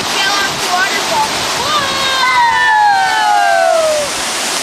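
Loud, continuous rushing roar of a waterfall close by. High, sliding vocal sounds ride over the steady noise.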